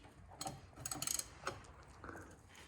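A 1994 Mazda Miata engine, long derelict, is cranked over by hand with a socket and ratchet, giving a series of faint clicking ratchet and mechanical ticks in short bursts in a quiet space.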